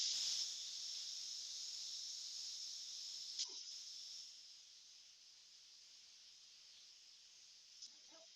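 Steam hisses steadily from the pressure release of a cooker in a home kitchen, a continuous bright hiss that slowly eases in strength, with a couple of faint clicks.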